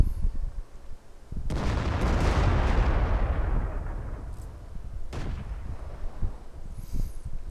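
A tank cannon firing in the video game World of Tanks on the Prokhorovka map: an abrupt heavy blast with a long rumbling decay, followed by a second, lighter report and softer thuds.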